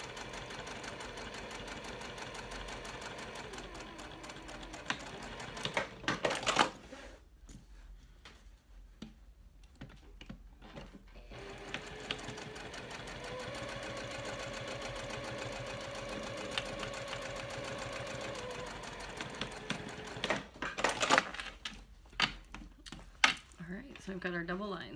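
Sewing machine stitching and backstitching a seam on a mini backpack at 2.5 stitch length, a steady mechanical whir in long runs with a short pause, while a person talks throughout.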